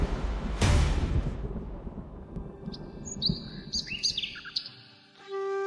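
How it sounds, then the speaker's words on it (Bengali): Several birds chirp and tweet at dawn, their short whistled calls layered and growing busier, following a deep rumbling crash at the start. "পাখির ডাক শোনা যাচ্ছে"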